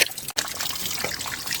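Water trickles and dribbles in a forest near Kataldhar waterfall, a steady close babble with a brief dropout early on.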